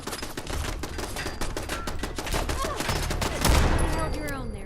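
A gun turret in Fallout 4 fires a rapid, steady stream of loud mechanical shots that rattle on without pause, with one heavier burst near the end.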